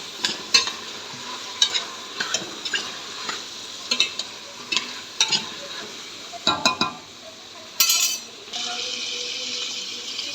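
A spoon stirs a cooking pot after ground black pepper and bay leaves go in, giving repeated scraping clinks in a steady rhythm over a low sizzle, close and fairly loud, with a brief louder burst near the end.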